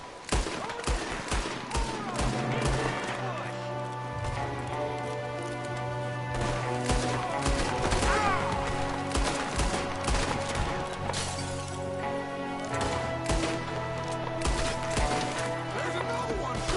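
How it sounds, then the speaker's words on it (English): Rapid, dense gunfire from a shooter firing out of a window in Red Dead Redemption 2, with sharp shots piling into sustained volleys over a steady tonal game score, loud and close throughout. "There's another one shooting from the window"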